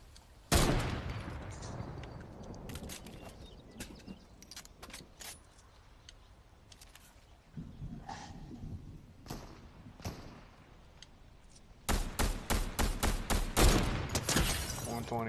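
Video game gunfire crackles in scattered single shots and short bursts, then turns into a rapid, loud volley of repeated shots toward the end.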